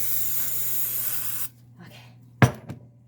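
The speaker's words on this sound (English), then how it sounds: "So I'm going to cheat and use spray oil." A can of cooking spray oil hisses in one steady, close, loud burst of about a second and a half. It stops sharply and is followed by a faint rustle and a short, sharp knock.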